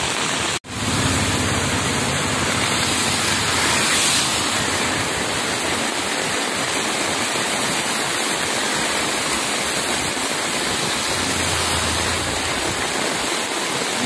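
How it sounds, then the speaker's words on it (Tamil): Heavy floodwater after torrential rain in Tirunelveli pours over a bridge, a loud, dense, continuous rushing roar like a waterfall that runs unbroken for the whole stretch after a sharp bump at the start. "பாலத்தையும் நிரப்பிட்டு போகிற அளவுக்கு வெள்ளம் போயிட்டுருக்கு"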